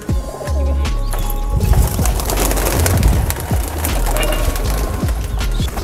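A flock of domestic pigeons released from boxes flutters and flaps steadily nearby, with rustling wingbeats and faint cooing running throughout.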